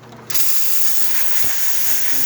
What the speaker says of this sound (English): You can see the steam coming out, the amount of steam coming out from the boiler